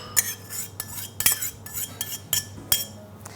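A teaspoon clinks against a bowl in quick, irregular taps and scrapes while vanilla paste and cinnamon are mixed for French toast, close and moderately loud with no talking.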